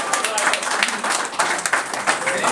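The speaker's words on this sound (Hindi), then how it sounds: "तालियां क्यों नहीं बजाते हो" Scattered audience clapping at a Hindi poetry open mic in Delhi, a steady wash of many hands at moderate level, with faint voices mixed in.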